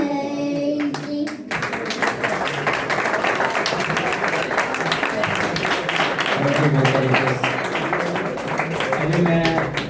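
A church congregation at an evening worship service applauds, a dense, continuous wash of many hands clapping for several seconds, loud and steady, with a brief burst of voices at the start.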